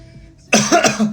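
A single sharp, close cough bursts out of quiet while someone eats a powdery snack during a live broadcast, loud and raspy with a couple of ragged follow-on pulses.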